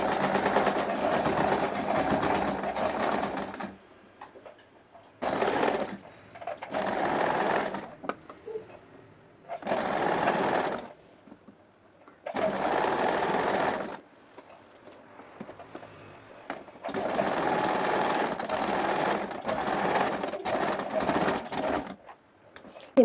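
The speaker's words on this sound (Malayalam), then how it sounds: "എന്നിട്ട് നമ്മുടെ ഈ ബാക്ക് നെക്കൊന്ന് സ്റ്റിച്ച് ചെയ്തെടുക്കുക." A sewing machine stitches the back neck of a garment at shoulder joining with canvas, running in loud, steady bursts of rapid whirring that stop and restart several times, with short quiet pauses between them.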